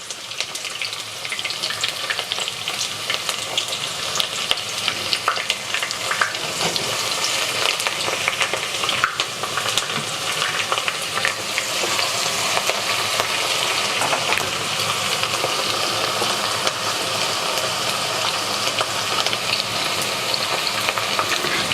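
One chopped onion fries in oil while being stirred for a Somali mixed rice dish, giving a loud, continuous close sizzle with scraping stir sounds throughout and no talking.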